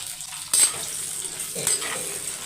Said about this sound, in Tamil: அது கூட நூக்களையும் சேர்த்து நல்லா வதக்கிட்டிங்கன்னா அந்த ஈரப்பதம் நல்லா போயிடும்